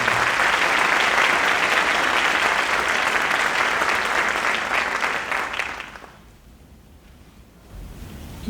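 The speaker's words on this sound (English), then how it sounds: "How about a round of applause for all of our community members?" An audience at a senior recognition night applauds in a dense, loud burst for about six seconds, then the clapping dies away quickly into quiet room tone.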